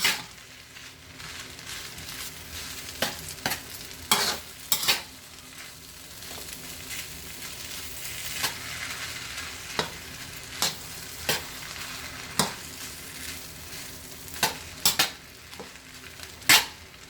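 Broccoli and mixed vegetables stir-fry in oil with a continuous sizzle, punctuated by sharp utensil scrapes and clanks against the pan at irregular intervals, with no talking.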